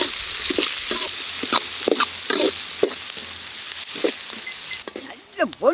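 Sliced onions frying and being stirred in groundnut oil for a village-style country chicken dish, a steady close sizzle broken by repeated scraping stirs, with faint voices near the end.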